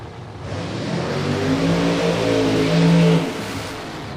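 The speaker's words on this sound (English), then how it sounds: "Looks like they're getting ready to fire up Wade Wagstaff." A drag radial race car at an Australian radial racing test day fires up and revs, its loud engine tone climbing steadily and holding high before easing off, close by with no talk.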